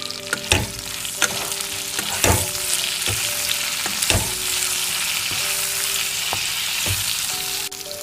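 Flat beans frying with turmeric in a pan, a steady loud sizzle broken by periodic scraping stirs of a spatula, with no talking.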